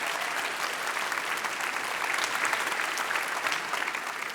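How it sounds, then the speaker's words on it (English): Audience at an academic-year opening ceremony gives sustained applause, a dense, even patter of many hands clapping at moderate volume throughout, with no voices over it. "Give a hand of applause."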